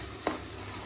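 Duck curry pieces frying in a clay pot give a soft, faint sizzle, broken by one brief stirring scrape partway through.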